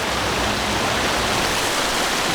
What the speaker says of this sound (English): the water is quite loud